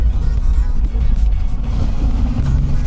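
A rebuilt engine in a first-generation Toyota Land Cruiser idles at a loud, steady rumble that stays close and unbroken throughout.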